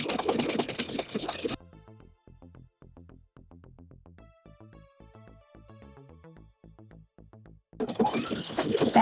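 Home sewing machine running a zigzag stitch along a fraying loose-weave fabric edge for a shift dress, steady rapid mechanical ticking and whirring at moderate level, with talk before and after.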